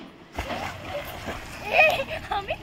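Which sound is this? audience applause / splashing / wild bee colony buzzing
splashing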